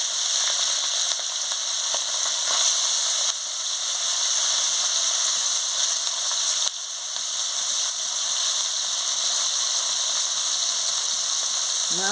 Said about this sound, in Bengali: তেল গরম হয়ে গেছে, আমি মাছটা দিয়ে দিচ্ছি।